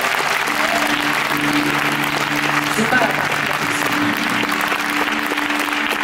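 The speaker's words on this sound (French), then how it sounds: "on peut les applaudir encore très très fort" A concert audience at a show applauds steadily and loudly, a sustained wash of clapping with a voice briefly speaking over it.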